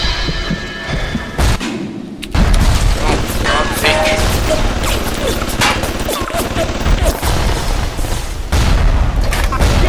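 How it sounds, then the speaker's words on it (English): Gunfire and heavy thuds in the video game BioShock, loud and continuous, with dense bursts of shots and booming impacts over a busy backdrop and a brief near-silent gap early on. "Shooting, getting shot at."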